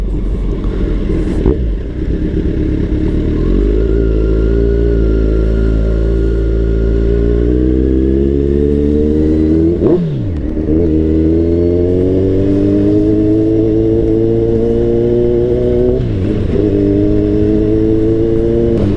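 A Kawasaki Z1000 sports bike engine drones loudly and steadily while riding, with rising and falling revs as it accelerates through gears, a sharp dip and recovery around a shift midway, heard continuously without speech.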